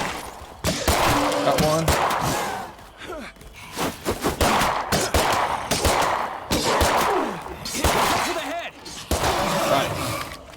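Repeated gunfire bursts in State of Decay 2 during a co-op Lethal Zone fight against zombies, loud and close, rattling through most of the stretch with players talking over it.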